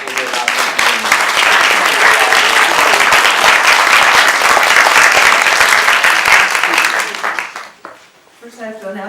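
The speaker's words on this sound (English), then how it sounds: "let's give a round of applause before we wrap up" Sustained loud audience applause fills a hall at the close of a climate finance summit panel, a dense round of clapping lasting several seconds before tapering off as a voice begins speaking.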